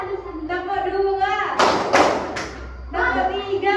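A group of children and young people playing a counted ice-breaking clap game give a burst of a few loud, close claps in rhythm between stretches of speech.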